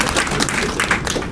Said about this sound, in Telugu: Please give a big round of applause.